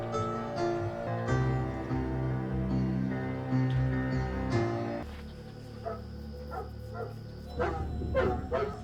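A dog barks and yips in a scene from the 1984 film The Terminator, several sharp barks in a burst after a stretch of music, fairly close and clear.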